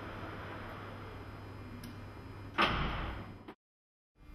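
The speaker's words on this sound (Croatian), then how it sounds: "vrata prtljažnika zatvaraju se nakon približno 3 sekunde i oglašava se zvučni signal." The hands-free car tailgate closes by itself. A steady hum runs before a firm thud as the door shuts, then the motor sound fades and stops.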